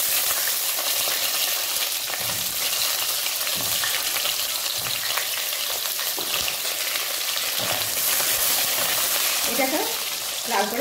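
Eggplant pieces frying in oil in a pan, a steady bubbling sizzle with scattered pops and occasional stirring clinks, moderately close and continuous.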